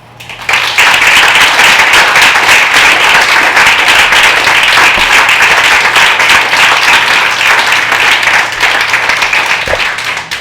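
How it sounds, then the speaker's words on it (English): A live audience at a storytelling show applauds the storytellers: dense, steady clapping from a full room sustained for about ten seconds, loud and close, with no talk over it. "One more time, a round of applause for our storytellers."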